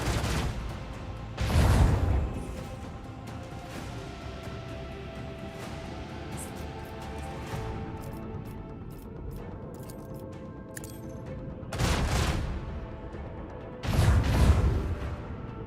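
Side bombardment gunfire in Warhammer 40,000: Rogue Trader, heavy booming volleys arriving in a few separate bursts, with a rumbling low-end hit and quieter clanks and crackles between them.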